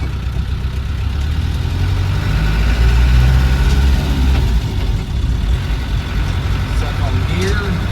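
A 1986 Land Rover 110 ex-military vehicle pulls away in first gear, its engine a loud, continuous low drone heard from inside the cab. The level swells slightly midway, then settles.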